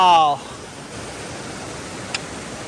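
A river near Pahalgam rushes by in a broad, steady roar, loud and continuous, after a brief voice at the very start.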